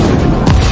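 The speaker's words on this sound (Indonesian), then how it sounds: "menembak amunisi yang membuat mobil itu meledak" A car blowing up after being shot in an action film, heard as a loud, dense rumble of explosive booms with a sharper burst near the end, close and overwhelming.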